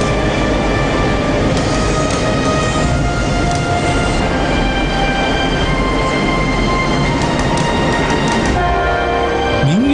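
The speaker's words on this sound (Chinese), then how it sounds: "火车贴壁穿过山洞，虎虎生风" A train runs along a cliff face and through mountain tunnels on a busy double-track Sichuan rail line, a loud, steady rolling rumble with rhythmic wheel clatter and a rising squeal near the end.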